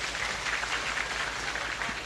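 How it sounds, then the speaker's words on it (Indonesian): Applause from a crowd at a large religious gathering for a boarding school launch, a steady dense wash of clapping with no pauses, fairly loud throughout. "Tepuk tangan buat orang tua kita semua."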